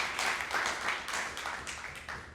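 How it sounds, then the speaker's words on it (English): Audience at a healthcare conference applauding, steady distant clapping with uneven swells, fairly faint and alone. "So a huge round of applause for"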